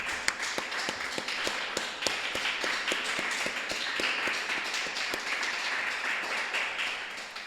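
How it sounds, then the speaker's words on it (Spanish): A church congregation claps for Jesus during a Spanish-language prayer service, with a sustained crowd of hands in a steady, rhythmic beat and some sharper individual claps standing out, heard alone without talk. "Denle un aplauso a nuestro Señor Jesús."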